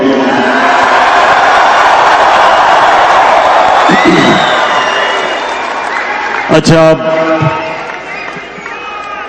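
Large stadium crowd at a political rally in Washington DC roaring and chanting slogans, a loud sustained wall of voices with whoops and shouts, easing somewhat toward the end as a single voice speaks over it.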